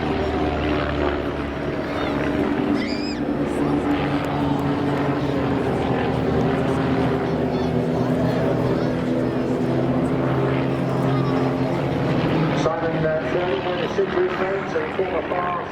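Display aircraft at the Southport Airshow passing from left to right, a steady propeller or engine drone sustained throughout with a commentator talking over the top.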